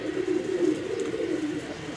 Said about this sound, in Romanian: am luat de pe licitații de la Gelu niște porumbei de Benihoma, tot de fond maraton